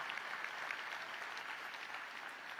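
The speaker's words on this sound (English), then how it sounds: "Join me in giving our travel and tourism partners a round of applause." A luncheon audience at the Orange County Convention Center applauds travel and tourism partners during Travel & Tourism Week, with a steady, even wash of clapping from a large crowd heard at a moderate distance.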